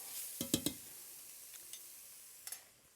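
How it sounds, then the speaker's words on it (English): Crushed garlic stirred into bean and bacon soup, a faint low simmer broken by a quick cluster of spoon clinks against the pot, then a couple of softer taps. "Crush in some garlic. Stir that in."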